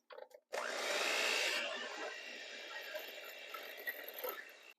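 An electric mixer whirs steadily as it beats creamed butter and sugar with vanilla and an egg into cake batter, starting abruptly loud, then settling to a slightly lower, continuous drone.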